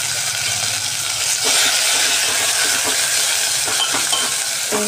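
Spices sizzle in hot oil with asafoetida in a pan, a continuous close frying hiss broken by light scraping and clinking of a spoon stirring.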